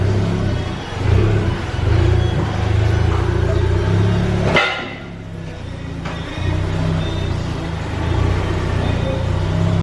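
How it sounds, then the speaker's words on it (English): A car fitted with a Milltek non-resonated race exhaust, tuned to Stage 4 with Revo software, revs hard on a dyno with a loud, steady engine drone that cuts out abruptly midway, then builds back up. "he's got a Miltech non-res race system, which sounds amazing"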